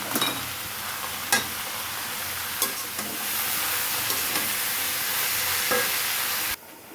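Pumpkin greens and gourd greens, already boiled, tipped into a pan of frying onion and garlic and stirred, giving a steady close sizzle with a few sharp clatters. The sound cuts off near the end.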